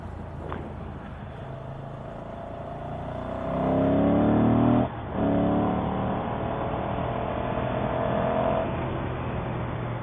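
Ducati Monster motorcycle engine on a road ride, revving up loudly then dropping through a quick downshift, with rumbling exhaust and steady wind noise throughout.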